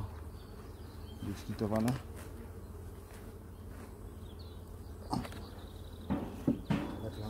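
Honey bees hum at a beehive, a low steady buzzing close by, with a few brief clicks and knocks and a short stretch of talk over it.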